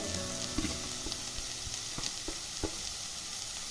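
Paneer and masala filling for stuffed paratha sautéed in a pan, giving a low steady sizzle with a handful of spaced spatula taps and scrapes, fairly quiet and without speech.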